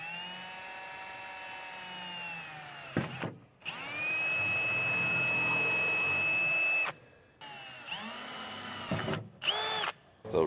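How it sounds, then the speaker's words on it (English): Power drill boring holes in the metal trunk lid of a 2024 Subaru WRX to mount a carbon fiber spoiler: loud, close whine in long sustained runs, broken by short pauses and brief stop-start bursts near the end. "Now it's time to drill"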